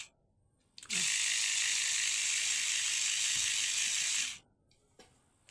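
An electric foot callus remover switched on and running alone for about three seconds, a steady, close, high-pitched whirring buzz that starts and stops abruptly, with quiet room noise before and after.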